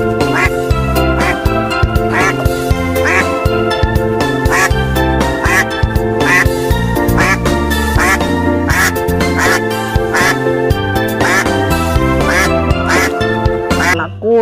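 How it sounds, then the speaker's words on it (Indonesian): A toy duck quacks loudly and repeatedly in a fast, steady rhythm close to the listener, with a bright, harsh, buzzy tone throughout. "lihat teman-teman, ini adalah bebek"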